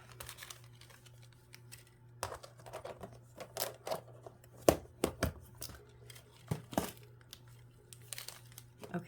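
Red paper rope being handled and crinkled for a miniature house craft, giving close, irregular rustling and crackling bursts with a faint steady hum beneath and no talking.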